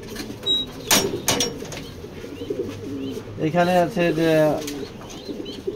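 Pedigree racer pigeons in a loft give a burst of wing claps and then a drawn-out coo nearby, with someone speaking over part of it.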